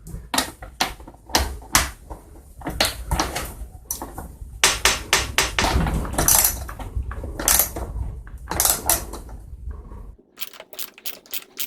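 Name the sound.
9/16 socket loosening nut on Echo GT 225 trimmer head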